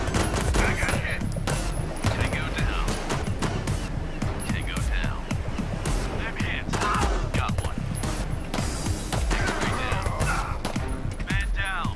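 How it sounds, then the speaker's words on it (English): Sniper rifle fire cracks in the video game Door Kickers, with sharp shots repeating irregularly among other gunfire and clatter, fairly loud and continuous, mixed with voices. "we can start with the sniper fire"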